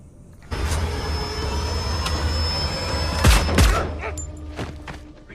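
Gunfire in a tense action film scene: a low rumbling backdrop gives way to a couple of sharp, heavy shots followed by scattered fainter bangs.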